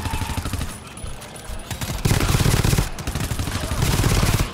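Sentry turrets firing in the video game GTFO, loud rapid bursts of automatic gunfire that swell and pause across several seconds, with no talk over them.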